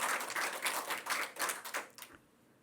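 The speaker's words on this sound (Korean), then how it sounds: "박수 한번 쳐주세요." Church congregation clapping in a Sunday service, a fairly close burst of scattered, fluttering applause that swells and then fades out near the end, with no talk over it.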